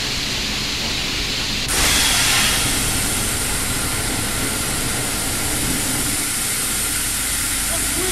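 Broad, loud steam hissing from a steam system in Metro: Awakening, jumping to full force after a couple of seconds and holding steady as a continuous roar, with a voice heard faintly.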